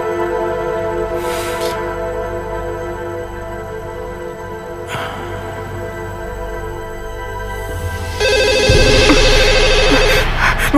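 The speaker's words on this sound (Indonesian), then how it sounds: "Mudah-mudahan itu telepon dari Tuan Harry" Telephone ringing indoors in a tense domestic drama scene, a steady repeating ring that grows louder near the end over a dense, noisy background.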